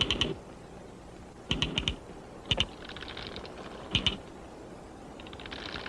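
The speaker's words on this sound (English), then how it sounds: "the soldiers sound their clicking alarm by beating their heads on the ground" Soldier termites beat their heads against the ground inside a clay termite mound, making short bursts of rapid clicks. The bursts repeat roughly every second or so and stay faint against a quiet background, with no voices.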